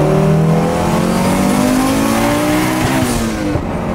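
An Audi S1 EVO 2 rally car engine revs hard and accelerates, a loud sustained roar with rising pitch sweeping up through the gears, close and continuous with no talking.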